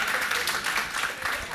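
Pupils in a classroom applaud another group, a dense, steady patter of many hands clapping close by for a brief moment.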